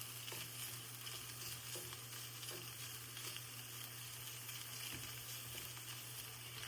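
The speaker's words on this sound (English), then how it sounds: "We're going to cook that for about a minute, and then we'll start adding the seasoning to it and the other ingredients. We're going to just stir this around." Lean ground beef cooks in a pan while a utensil stirs it around, giving a steady, even hiss of frying with faint scrapes under a low background hum.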